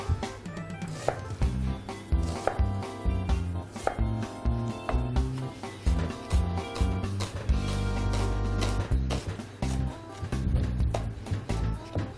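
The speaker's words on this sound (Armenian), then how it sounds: "սոխը կտրատում ենք մանր։" Rapid, rhythmic knife chopping of onion on a cutting board, many quick crisp taps in bursts, close up and loud, with no talking.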